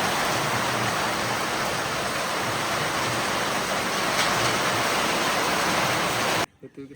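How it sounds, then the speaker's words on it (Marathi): Heavy rain pours in a steady, loud broadband rush for several seconds, then cuts off abruptly into near quiet with a few faint sounds. "जोरात पाऊस सुरू झाला."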